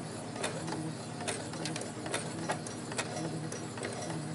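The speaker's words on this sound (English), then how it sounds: "as we're coming to the point, we'll just sew straight off the edge" A sewing machine stitches a dart in fabric, sewing straight off the edge at the point, giving a steady, close mechanical whir with quick rhythmic ticking clicks, heard alone without talk.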